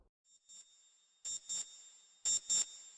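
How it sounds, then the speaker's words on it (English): An alarm clock in the Journeyman Project video game rings in short electronic bursts, two pairs of steady high beeps separated by quieter gaps, clear and close with no talking. "Ah, it's the alarm clock."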